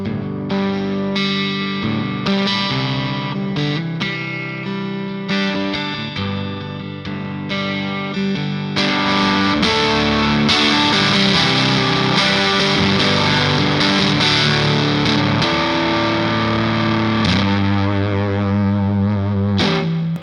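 Electric guitar played through a Behringer Fuzz Bender fuzz pedal, thick saturated distortion on sustained chords and riffs, building louder and denser in the second half, loud and continuous with no talking.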